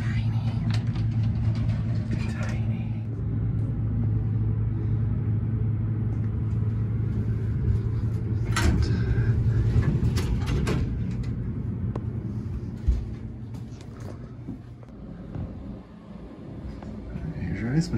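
A tiny, old elevator in the historic Boulder Dam Hotel runs with a steady low motor rumble and hum, close and continuous, with a few knocks and clunks near the end.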